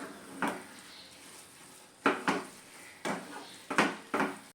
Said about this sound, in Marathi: तुपाचा तडका घातल्यानंतर आणखी एक दोन मिनिटं परतून घेऊया